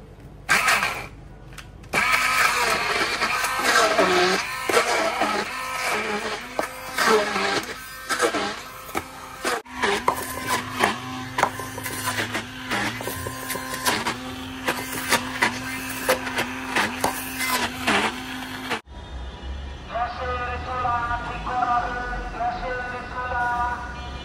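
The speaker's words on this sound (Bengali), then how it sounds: "এখন যেটা করব সেটা হচ্ছে এই যে হ্যান্ড ব্লেন্ডারটা দিয়ে না কুমড়া পাতাটা" Hand blender grinding pumpkin leaves in a home kitchen, a loud whirring motor running in repeated pulses with short pauses, near and steady, then quieter kitchen noise at the end.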